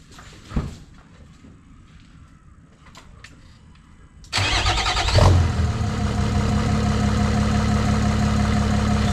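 A Nissan Navara with a V9X engine, freshly repaired with turbo and oil leak fixes, cranks briefly and catches, then settles into a loud, steady idle that runs on after a quiet pause with a single knock.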